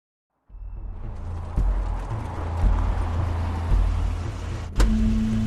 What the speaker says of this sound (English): Crane's car.